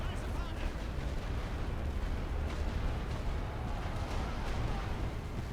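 Enemy mortar fire in the World War I video game The Great War: Western Front, a dense continuous rumble of distant shelling and blasts that stays fairly quiet throughout.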